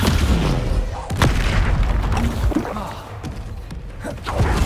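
A Descendo spell slams down in Hogwarts Legacy with a loud booming thud, followed by smaller impacts and rumbling debris during spell-casting combat.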